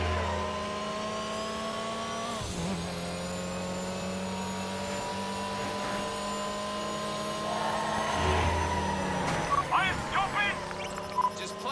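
A small car's engine revving in the street-racing game Midnight Club, a steady mid-pitched drone that climbs toward the end, with someone talking over it throughout.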